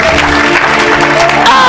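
Audience at a church healing service applauding and cheering, a loud continuous wash of clapping and crowd noise filling the room, with voices mixed in.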